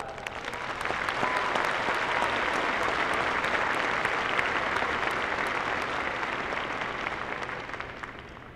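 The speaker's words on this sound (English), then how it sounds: "And we owe you a round of applause as well." Broad, sustained applause from a large commencement audience for graduates' families, building quickly to a steady roar of many hands and tapering slightly near the end.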